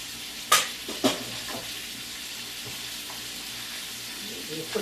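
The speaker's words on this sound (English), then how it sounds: "So here we go with our butter into our spinach, like so." Butter and spinach in a hot pan, a soft steady sizzle under a couple of sharp clanks of utensil on pan near the start, quiet and close.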